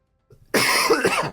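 A single harsh, rough cough bursts out after a brief quiet moment, close and loud, trailing off in about a second.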